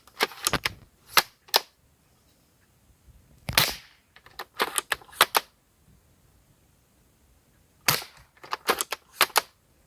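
Airsoft replica gun firing at a target outdoors on a playing field: sharp snapping shots in quick clusters of several, separated by pauses of quiet, close and crisp with no speech.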